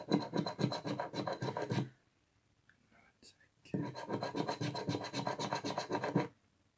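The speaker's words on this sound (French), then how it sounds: "On aime bien le ticket là, il gratte tranquillement." Coin or fingernail rasping across an Illiko scratch-off lottery ticket, steady close scraping strokes in two long bursts separated by a brief pause with faint soft movement.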